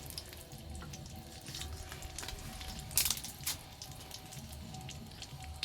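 Whole dried red chillies frying in hot oil, a steady crackling sizzle with sharper pops near the middle, loud and close with no talk.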